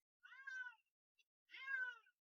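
A shy pet cat gives two quiet, clear meows, each about half a second long, separated by a short pause in an otherwise silent space.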